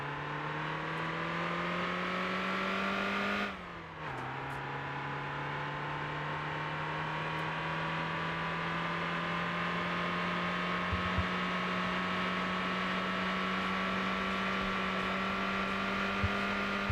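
A turbocharged car's engine droning under acceleration while driving, its steady tone climbing in pitch, dipping once at a brief gear change, then rising again, fairly quiet and without talk.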